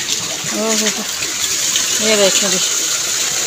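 Heavy rain with water rushing and flooding through a street lined with lanes, a steady gushing wash throughout while someone speaks briefly over it near the microphone.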